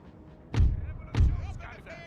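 Two heavy booming thuds from an artillery barrage in the strategy game Napoleon Total War, spaced about half a second apart. A voice speaks over the blasts.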